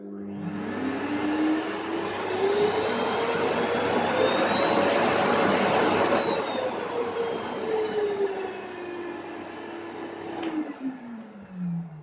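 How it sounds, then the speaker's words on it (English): A Festool CTL 26 E AC dust extractor runs steadily and loudly as its suction is turned up, the motor whine rising in pitch and then easing back before it cuts off near the end. "This next control here is the power of the vacuum, how much it will suck."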